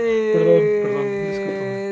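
A dog whimpers and howls in long, wavering, tonal cries that rise and fall, loud and close, with a few short yips mixed in.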